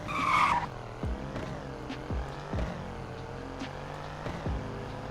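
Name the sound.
SUV accelerating 0 to 100 with tire squeal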